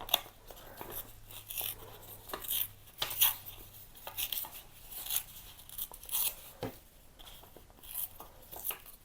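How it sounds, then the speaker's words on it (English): Paper being torn by hand around its edges for a scrapbook album, a series of short, close ripping bursts separated by small pauses. "So I'm just going to give it a bit of a tear, going around and round."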